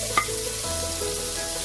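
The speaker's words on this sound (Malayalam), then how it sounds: "ഇഞ്ചി അതുപോലെ തന്നെ വെളുത്തുള്ളിയും കൂടി ചതച്ച് വെച്ചിരിക്കുന്നത് ചേർത്ത് കൊടുക്കാം." Crushed ginger and garlic frying in a pan for a chicken cheese roll filling: a steady close sizzle with a brief clink of stirring near the start, and no voices.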